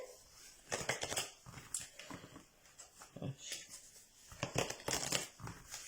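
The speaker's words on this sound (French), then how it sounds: "On va mélanger le jeu, comme on a fait" A deck of oracle cards being shuffled by hand, soft papery riffles and slides in a few short bursts, close and fairly quiet.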